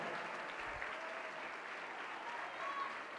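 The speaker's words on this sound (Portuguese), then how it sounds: "Vamos aplaudir mais, igreja." A church congregation applauds during an evangelical service, a continuous wash of clapping from many hands, fairly soft and steady throughout the short stretch.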